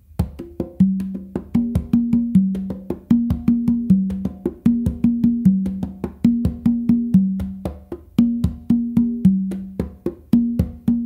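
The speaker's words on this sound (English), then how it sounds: "And then you just go back to your bass finger on the conga with your non-dominant hand." Three congas played slowly in a repeating beat exercise, with distinct hand strokes including low bass-finger hits, in an even rhythmic pattern that cycles several times, close and clear with no talking.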